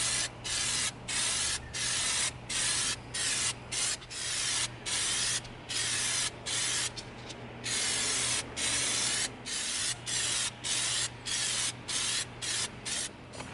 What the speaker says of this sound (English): you just want to spray nice even coats, just like that, back and forth.